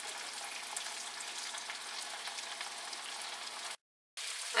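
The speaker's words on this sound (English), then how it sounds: "peas and carrots have been cooking for a couple minutes now" Chicken, peas and carrots stir-fry in a pan with a steady, dense sizzle that holds evenly. The sizzle breaks off for a moment near the end, then resumes.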